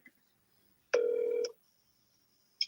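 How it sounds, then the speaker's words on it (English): A single telephone ring tone sounds once on an outgoing call, a steady buzzing burst of about half a second, loud and clear with silence around it and another sound starting at the very end. "You're going to hear the phone ring."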